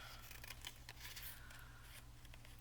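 Scissors snip through paper in a quick series of light, close cuts during journal-making, with a steady low hum underneath and no talking.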